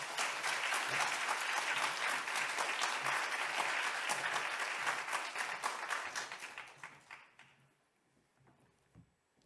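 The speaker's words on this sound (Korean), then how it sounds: "우리 함께 박수로 맞이하도록 하겠습니다" The congregation at Changwon First Church claps to welcome the pastor to the pulpit, full and steady applause that tapers into a few stray claps and then near silence.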